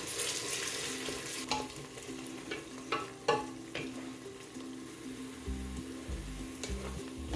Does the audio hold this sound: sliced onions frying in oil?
yes